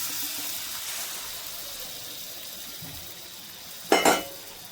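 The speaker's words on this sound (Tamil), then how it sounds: "பாருங்கள், முட்டை நல்லா அடித்து வச்சுருக்கு. இப்போ அப்படியே ஊற்றிக்கலாம்." Beaten egg poured into a buttered tawa, with a faint steady sizzle that swells into a brief louder burst of frying near the end.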